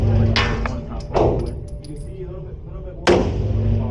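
Walther Q5 Match SF pistol firing on a range: two sharp, loud shots about two seconds apart, each with a short ringing tail, under a steady background and a voice talking between them.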